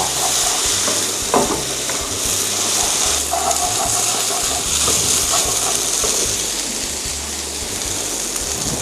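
Pad thai rice noodles stir-fry in a hot pan after a splash of water is added: a steady, loud sizzle and hiss with scraping and stirring noises running throughout, no talking.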